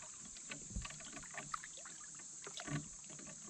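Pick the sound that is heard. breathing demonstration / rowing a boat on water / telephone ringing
rowing a boat on water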